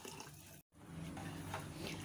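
Kehwa tea leaves being whisked into about three cups of tap water for Kashmiri pink tea, a steady close watery swishing and sloshing with a brief dropout near the start.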